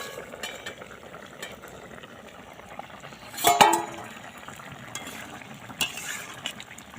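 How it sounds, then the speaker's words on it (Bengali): A lid comes off a pot of magur fish curry cooking with fig, kulekhara and green banana in a home kitchen: one short metallic clank near the middle, a fainter clink later, over a quiet bubbling simmer. "ঢাকনাটা খুলে দেখব হয়ে গেছে কিনা"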